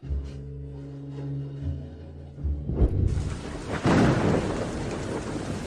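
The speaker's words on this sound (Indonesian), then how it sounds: "Hujan terlalu besar." Heavy rain pours down steadily, building into a loud, dense downpour with thunder rumbling through it and no voices present.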